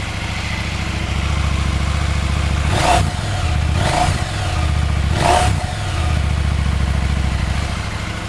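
A KTM 790 Adventure motorcycle with its stock exhaust idles steadily, then revs sharply three times in quick succession, each blip rising and dropping back to a loud, close idle.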